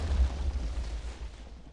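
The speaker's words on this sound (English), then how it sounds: "For 9 kills, you are given a trident which triggers a massive explosion wherever you shoot it." A massive trident-triggered explosion in Minecraft booms loudly with a heavy low rumble that fades over under two seconds, heard alone.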